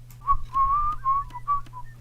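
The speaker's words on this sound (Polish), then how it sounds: "Lubię to gwizdanie." A character in the online game FreeSO (Free Sims Online) whistles a short, wavering tune made of several bright phrases over a steady low hum. No one speaks.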